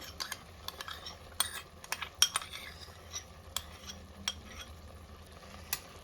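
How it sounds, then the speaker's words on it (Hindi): Yogurt being stirred into a cooking masala for Old Delhi style aloo sabzi, with light scraping and clinks of a spoon against the pan over faint sizzling, irregular and close. "इसको अब हम लगातार चलाते हुए पकाएंगे।"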